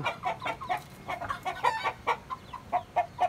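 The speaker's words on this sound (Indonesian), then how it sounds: "ini ayam kampung teman-teman" Free-range village chickens cluck in a steady run of short, repeated calls at close range, with no speech over them.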